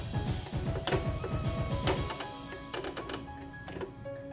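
An Usha Janome sewing machine runs with a fast rhythmic clatter of stitching for about two seconds, then quieter mechanical ticks and clicks as it slows and stops, with no voices.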